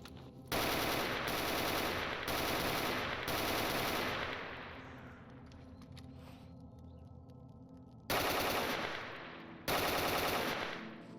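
Automatic rifle fire from an FN-FNC and an M16 in the STALKER Anomaly video game: loud, rapid bursts in several volleys, with a long rumbling echo fading after the early bursts and two sharp bursts near the end.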